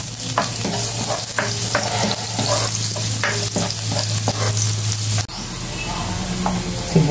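Garlic sizzles and fries in a pan for chicken curry, a steady hiss with scattered crackles and clatter of stirring, cutting briefly quieter near the end before resuming.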